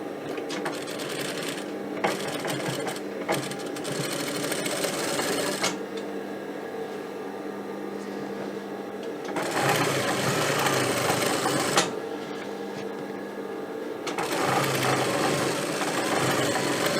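An overlock machine runs in bursts while finishing the seam of a pair of trousers, a loud rapid mechanical whir that starts and stops several times with short pauses between runs.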